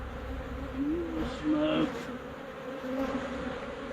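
A dense swarm of honeybees rescued from a storm-felled tree hums loudly and continuously nearby, a close, wavering buzz with a few individual bees passing, while someone speaks briefly over it.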